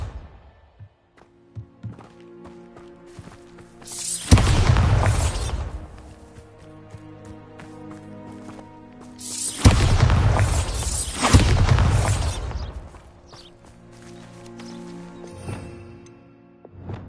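Bombarda spell blasts hitting pumpkins in the Hogwarts Legacy video game, two loud booming bursts a few seconds apart, each with a crackling, shattering tail that fades into quiet game ambience.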